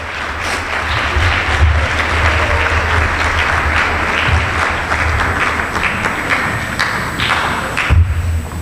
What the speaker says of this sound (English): So let's give the people that were able to be here a great applause.